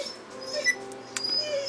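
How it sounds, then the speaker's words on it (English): A dog whines in thin, high, wavering whimpers, upset by beeping. Faint electronic tones sound in the background, and the clip is short and fairly quiet. "Excuse my dog whining, she doesn't like the beeping."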